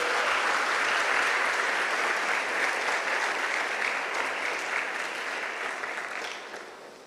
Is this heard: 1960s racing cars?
no